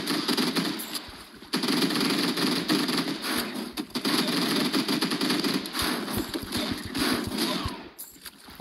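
An Uzi in the game Swamp Attack fires in rapid, sustained bursts that pause briefly and resume, loud and close over a noisy game background, with a voice talking at times.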